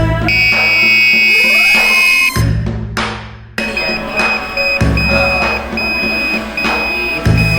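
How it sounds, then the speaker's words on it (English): A piercing electronic buzzer on a robotics lab board, driven by code to generate notes, plays a sequence of sustained tones, shifting pitch between held notes with brief breaks, loud and harsh. "We connected the buzzer and copied the code from the lab manual to generate notes."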